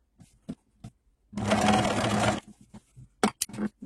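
A sewing machine runs in one steady burst of about a second, stitching two fabric pieces placed right side to right side while sewing a sleeve vent; short clicks and handling noises come before and after it.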